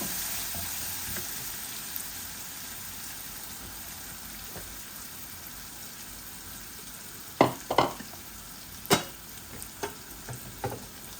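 Onions sizzling in a cooker pot, a constant soft frying hiss with a burst of sharp stirring scrapes and clinks toward the end.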